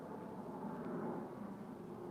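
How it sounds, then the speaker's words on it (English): Helicopters flying overhead make a steady, broad rotor rumble, distant and fairly faint, with no voices in the moment. "these fucking helicopters flying above me"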